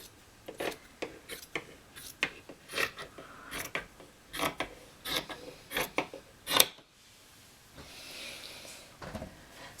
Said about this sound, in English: I'm cutting through both layers of fabric.